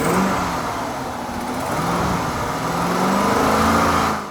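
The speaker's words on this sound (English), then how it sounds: "I bet you it'll clean up if I rev it a little bit." Chrysler 300 V8 with 165,000 miles and a suspected exhaust leak, idling rough and diesel-like, then revved in a sustained, loud, close rumble that swells and holds before dropping back near the end.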